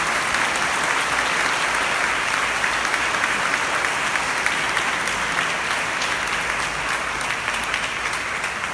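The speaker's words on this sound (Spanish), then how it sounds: "Y empezamos dando un fuerte aplauso a Jesús de Nazaret." Sustained loud applause from a church congregation at a Spanish-language religious gathering, offered to Jesus of Nazareth; steady dense clapping with no speech, holding evenly throughout.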